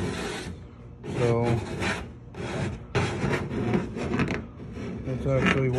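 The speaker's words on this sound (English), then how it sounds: "I'm just using a cheap little black scraper, plastic scraper, and stuff is coming right off." A cheap black plastic scraper is dragged over a boat hull in repeated bursts of rasping, scraping strokes, taking material off. Someone talks over the scraping throughout.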